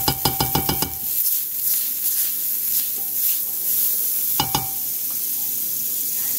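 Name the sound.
margarine sizzling in frying pan for French toast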